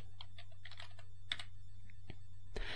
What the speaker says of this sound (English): Then we'll type in a description.